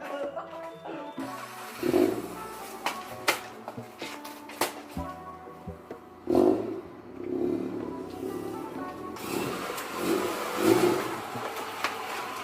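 Car engine as the car is pulled up, with several short revving surges and throttle blips over a low rumble, heard nearby with people talking in between.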